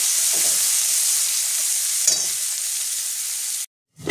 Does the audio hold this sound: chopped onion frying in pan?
yes